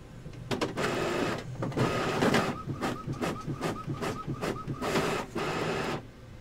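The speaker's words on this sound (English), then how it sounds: "Come on, printer. Do your thing" A printer running through a print job: rapid mechanical whirring and clattering in repeated bursts with short pauses, including a stretch of fast, evenly spaced ticking, close and fairly loud for several seconds.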